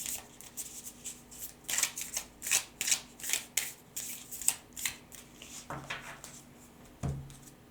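Tarot cards shuffled by hand in a steady run of crisp, close riffling slaps, then two duller taps as cards are drawn and set down, with no talking.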